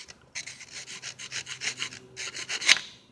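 A screwdriver rasps and scrapes inside the water passages of a Ford 300 inline-six engine block during a rebuild, a close series of rhythmic rubbing strokes ending in a sharper squeak.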